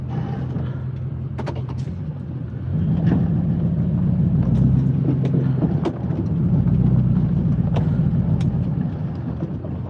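A pickup truck engine idles and revs steadily while plowing snow from a driveway, its low rumble swelling as the truck pushes forward and drags back, with scraping and clunks throughout.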